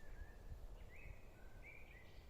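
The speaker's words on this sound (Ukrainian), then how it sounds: "Така розкіш побути на природі, послухати пташок." Birds singing outdoors in nature, several thin chirping phrases rising and falling over a faint low rumble, quiet and somewhat distant.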